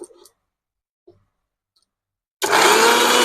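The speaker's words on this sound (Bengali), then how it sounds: "কিছুটা আম নিয়ে আমি বেটে নেব ম্যাঙ্গো এসেন্স বানানোর জন্য" An electric kitchen grinder starts up blending mango pieces for mango essence, a loud steady whirring motor that kicks in abruptly after a few faint clicks and quiet pauses.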